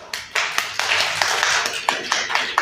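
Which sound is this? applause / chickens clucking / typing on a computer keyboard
applause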